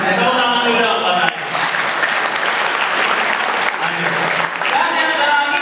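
Audience applause in a student motivation training session, loud and sustained dense clapping from a crowd that swells, dips briefly and continues, with speech mixed in at moments.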